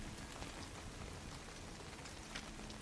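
Steady, heavy rain in the video game The Last of Us Part 2 falls through dense foliage as a continuous, even hiss of drops. It is fairly quiet and heard alone, with no voices.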